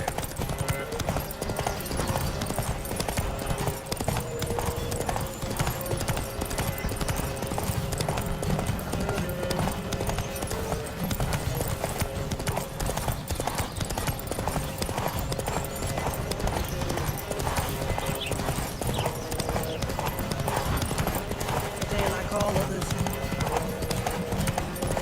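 Horse hooves clip-clop at a steady gallop throughout a horse race in The Witcher 3, with game music and occasional voices running underneath.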